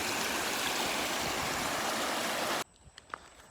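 Steady, loud rush of stream water flowing over rocks, cutting off abruptly to a quiet background with a few faint knocks.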